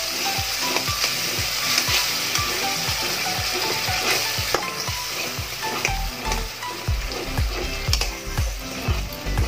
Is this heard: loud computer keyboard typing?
no